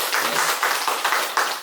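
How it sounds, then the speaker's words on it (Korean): A church congregation at a Friday prayer meeting claps in welcome, a short burst of rhythmic hand claps in quick pulses, fairly close and with no voices. "우리 박수로 환영하겠습니다."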